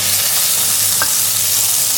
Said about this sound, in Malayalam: ഇനി താളിച്ച് നമുക്ക് ഈ പുളിശ്ശേരിയിലേക്ക് ഒഴിച്ചു കൊടുക്കാം.